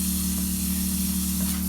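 Water sprays steadily from a hose on an off-grid water system, a continuous loud hiss with no breaks.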